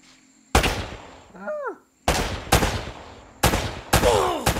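Loud, sharp gunshots from the Uncharted: Drake's Fortune video game ring out about six times at uneven intervals, each with a short echoing tail, and brief vocal cries sound between them.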